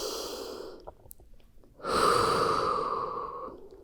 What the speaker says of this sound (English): Go ahead and take 1 round of breath wherever you are.